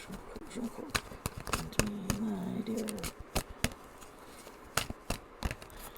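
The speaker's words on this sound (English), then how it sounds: "I am shuffling while I'm doing this" Tarot cards are shuffled by hand in soft, quick riffling clicks and flicks, while a voice hums faintly in the background.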